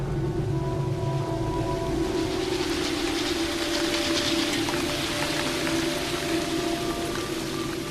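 Steady, dense rain pours down with a constant hiss and patter, unbroken throughout and fairly soft in level.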